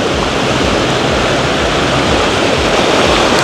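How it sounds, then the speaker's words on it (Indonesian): Continuous ocean surf washing onto a shallow beach, a steady broadband roar with no pauses and no voices. "Tapi kalau ke dalam udah gede lagi ombaknya."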